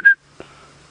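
A single short, clear human whistle, loud and close, followed by a faint quiet background during an outdoor safari drive at sunset.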